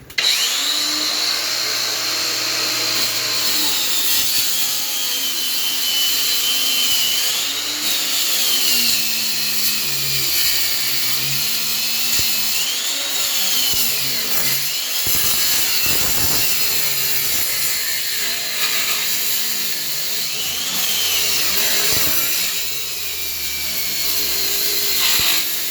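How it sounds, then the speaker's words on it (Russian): Angle grinder with a diamond disc, fitted with a guard and fed a little water, cutting chases into a wall, a sustained high whine that wavers in pitch as the blade bites and eases over a long stretch, with no talk. "болгарка с алмазным диском"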